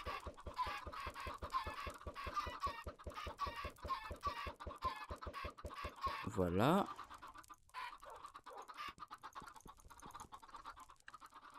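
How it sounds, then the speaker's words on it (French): Chickens cluck in the video game Minecraft, a rapid repeated clucking pattern through the first half under someone speaking, with a sudden sweeping game sound midway and scattered clucks and talk afterward. "Ça met combien de temps à grandir un poulet?"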